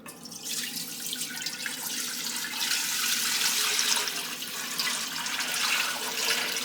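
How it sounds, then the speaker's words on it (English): Broth pours from a container into a large pot sitting in a kitchen sink, a steady splashing, gurgling rush of liquid that builds slightly and carries on throughout. "I have this large pot in here that I'm going to attempt to gracefully pour this broth into."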